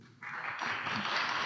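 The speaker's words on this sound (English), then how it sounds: "Yes, a round of applause, a round of applause." Audience applause at a youth art exchange event, a brief burst of clapping that starts abruptly and holds at a steady level, moderately close.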